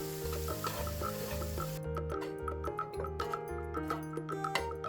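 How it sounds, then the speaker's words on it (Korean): Shiitake mushrooms sizzle and crackle steadily in a hot pan as they are stir-fried with soy sauce, with a tonal musical background running throughout. "여기에 표고버섯을 넣어 함께 볶아주면 향긋하고 맛있는 표고버섯이 완성됩니다"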